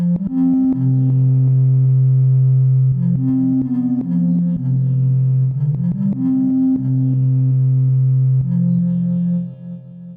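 Elektron Syntakt synth with audio-rate modulation adding crunch and gritty texture to a sustained, shifting bass line with stepping notes and layered overtones, playing loud and steady on its own.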